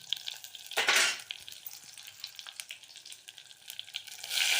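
Tamarind water poured over eggplant frying in a pan for a Brahmin-style gojju, a loud gush and spatter at the start, then crackling sizzle with small pops, swelling again at the end, no voices.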